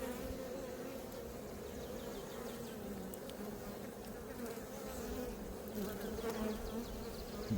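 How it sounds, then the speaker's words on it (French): A dense, steady buzzing of many honey bees at a hive during an apiary inspection fills the whole stretch, close and continuous with no talking. "Là, on voit les jeunes abeilles."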